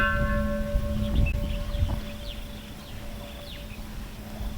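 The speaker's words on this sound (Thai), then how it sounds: "พระอาจารย์เคาะระฆัง" A monk strikes a temple bell once at a Thai temple, and the bright metallic tone rings out and slowly decays against outdoor ambience with faint birdsong.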